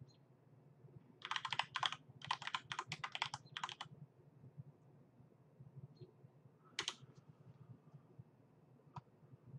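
Quick bursts of typing on a computer keyboard, several short clusters of clicking keys close to the microphone, followed by a few isolated taps in an otherwise quiet room.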